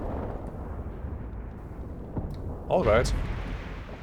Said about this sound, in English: Big artillery strike coming down on the fort over there.